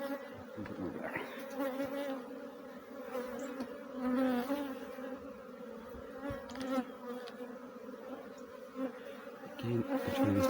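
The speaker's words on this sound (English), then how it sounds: "We need all the bees off the floor." A honeybee swarm being hived from a log into a box fills the air with a dense, steady buzzing of many bees, close and continuous with slight swells in loudness throughout.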